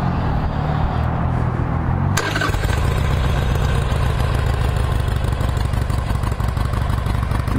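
A fuel-injected 883 cc 2007 Harley-Davidson Sportster XL883L motorcycle cranks briefly, fires up loudly and settles into a steady, close, rumbling idle, with no speech over it.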